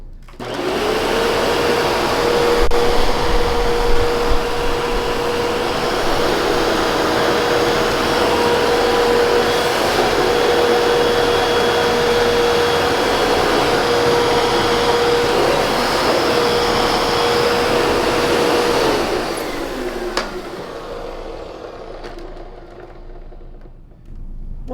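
A Hoover WindTunnel 2 U8351 upright vacuum runs on a hard floor with its brush roller shut off, a loud steady motor roar with a constant whine that holds for about twenty seconds before spinning down.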